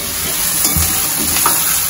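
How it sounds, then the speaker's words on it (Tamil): Onion and tomato sautéing in a pan while cooking for a large group, producing a steady close hiss and sizzle with a few soft stirring scrapes. "வெங்காயம் வதங்கியாச்சு, தக்காளி நல்லா கரைஞ்சி வதங்கட்டும்."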